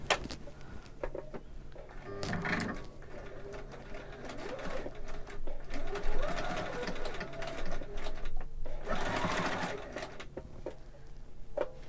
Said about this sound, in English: I'm just gonna sew a little bit right here.